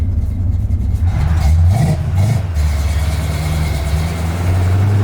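Loud Yenko Camaro engine close by, rumbling low then revving up briefly before settling back to a steady idle.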